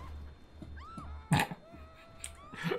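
A mountain lion in GTA 5 gives a few short, rising meows over a low game hum. The calls come one after another, with a louder, sharper meow near the middle.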